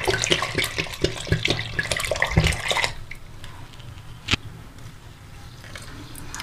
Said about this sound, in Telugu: ఓకే అండి, నేను 2 లీటర్స్ వాటర్ వేస్తాను ఇందులో.